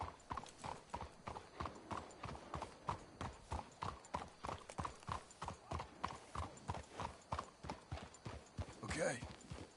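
Steady, regular horse hooves clip-clopping at a trot in Red Dead Redemption 2, close and clear, with muffled voices talking over them and a brief whinny near the end.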